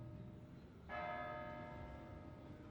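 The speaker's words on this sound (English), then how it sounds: "That's the 8th bell." A single struck church bell from Kingdom Come: Deliverance II rings out clearly and decays slowly over a low background rumble.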